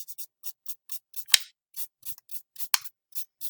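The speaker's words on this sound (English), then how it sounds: "I'm going to go ahead and smear my graphite using this rolled up piece of" A rolled-up manila paper stump rubs graphite on drawing paper in quick, soft, rhythmic scratchy strokes, close and quiet, with a couple of sharper taps between.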